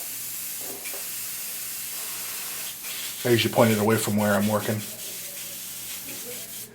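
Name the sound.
airbrush spraying out Windex and water cleaning flush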